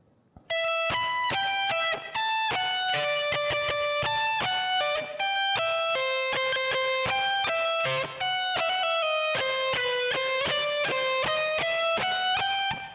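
An electric guitar plays a harmony solo phrase with slides and pull-offs, a run of bright, distinct notes with brief gaps, played alone.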